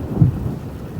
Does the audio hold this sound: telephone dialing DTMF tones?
no